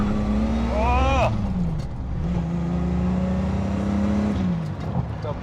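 A 550-horsepower Lister Storm road car, one of four street versions, revs hard as it accelerates, its engine note climbing in pitch and then holding a loud, steady roar close by.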